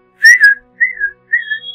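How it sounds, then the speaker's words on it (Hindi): A person whistles by mouth in three short clear phrases, each a bright sliding tone, the first with quick warbling notes, heard alone and close. "एक सीटी बजाई,"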